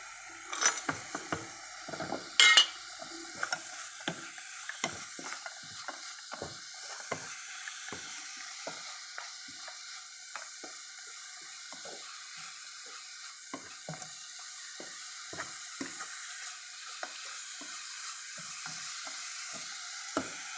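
A milk sweet with roasted, ground cashews and raisins being stirred in a pan, giving steady soft frying sizzle broken by repeated sharp scraping and clicking strokes of the spoon, close and moderately quiet, with no talk.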